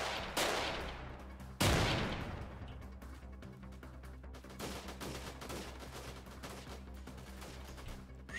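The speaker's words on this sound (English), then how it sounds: "Under heavy enemy fire." Heavy enemy gunfire in a guerrilla warfare shooter game: two loud blasts open it, then sustained rattling bursts of rifle fire continue steadily at mid distance.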